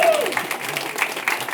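Audience applause rises briefly, a short burst of clapping from a crowd at a gathering, mixed with some voices.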